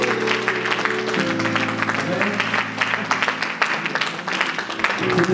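A church congregation applauds the men, sustained clapping from a crowd filling the room, with a voice speaking over it.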